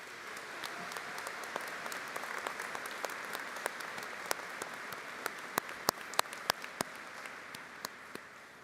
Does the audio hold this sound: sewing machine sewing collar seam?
no